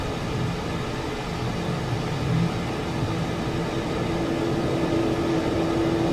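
An F-4 Phantom II jet engine drones in Microsoft Flight Simulator 2020 as a constant, dense roar with a faint steady whine, unbroken for the whole stretch.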